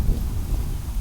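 Strong wind buffets the microphone with a steady low rumble and gusty roar, close and continuous throughout.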